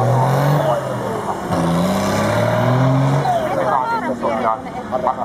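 Loud, close roar of a tractor-pulling truck engine at a Nurmes pulling event, straining and rising in pitch as it revs under heavy load, with an announcer talking over it.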